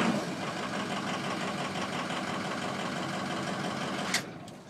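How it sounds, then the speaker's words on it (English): A Ford 6.0 diesel engine idles steadily and evenly at close range, a constant low rumble that cuts off abruptly near the end. "You can listen to the motor, it sounds consistent"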